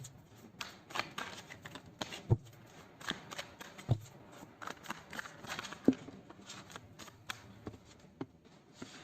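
Tarot cards are shuffled and pulled by hand in a quiet room, a close, soft run of riffling flutters and papery slaps with a few sharper snaps as cards land.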